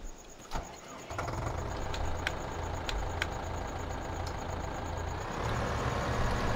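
Tractor engine in the Farming Simulator 15 video game, a steady low rumble that starts up after a brief pause and runs continuously, with faint clicks over it and no talk.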